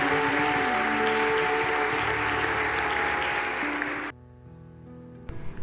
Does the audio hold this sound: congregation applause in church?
yes